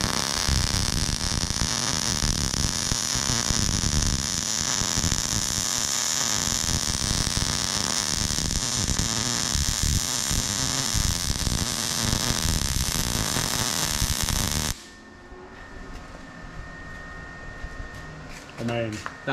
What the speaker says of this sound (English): I'm going to do what's called an overlap weld.